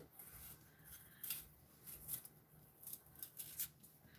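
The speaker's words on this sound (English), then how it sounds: "I'm going to be peeling it." Fresh ginger root being peeled with a knife in a home kitchen, faint scraping strokes in an irregular rhythm, quiet and close with no talking.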